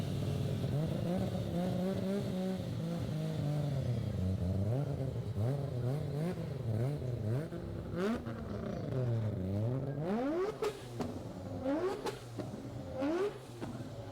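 A loud Mazda RX-7 rotary engine revs and accelerates hard, its pitch sweeping up and down repeatedly through gear changes, close and continuous throughout.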